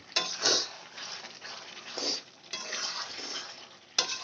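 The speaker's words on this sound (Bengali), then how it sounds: "আমি যেন তলায় না লেগে যায় তার জন্য আমি একটু লেড়ে দেব" Chicken and methi are stirred in a pot with a utensil, producing a run of scraping and clanking strokes against the metal, with sharper knocks at the start and end, close up and alone.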